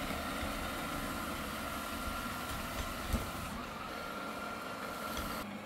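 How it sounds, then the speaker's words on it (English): A eufy L50 robot vacuum hums steadily on a rug indoors, a faint, continuous motor drone with a small bump midway, no voices. "when it's on that rug, it does change the suction volume"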